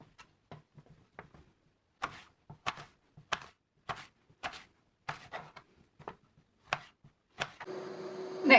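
A knife thinly slices white and red onions and peppers on a cutting board for a Cajun pasta sauce, with sharp, close chops in an uneven rhythm, followed by a brief hiss at the end.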